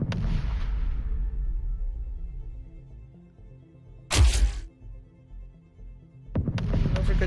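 Video game sound effects of pops in space and a fist-to-face punch, heard as a fading electronic burst, then a sharp loud impact and another burst rising near the end.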